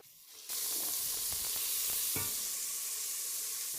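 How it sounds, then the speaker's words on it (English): Bacon and onions sizzle steadily in hot fat in a pan, beginning abruptly after a quiet half second and holding a loud, even frying hiss, with a few faint clicks and scrapes mixed in. "Add a bit of fat and now add the bacon. And the onions, you can do that at the same time."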